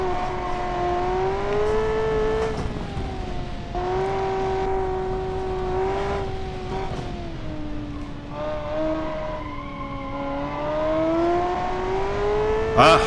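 A car engine in the BeamNG driving game, built in Automation, revs and blips its throttle through gear changes, giving a steady, close engine tone that rises and dips several times with no talk.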